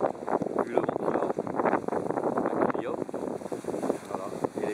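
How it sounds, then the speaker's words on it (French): Gusting wind buffets the microphone while waves wash in on Lac de la Ganguise, a lake in the Aude, giving a steady rough roar throughout. "Et les vagues qui s'approchent, c'est quand même assez impressionnant."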